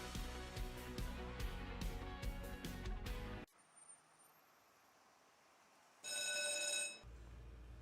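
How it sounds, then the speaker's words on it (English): A telephone rings in a broadband provider's radio advert, a bright electronic ring burst near the end that follows loud music and a quiet pause. "We provide the ring you love to hear."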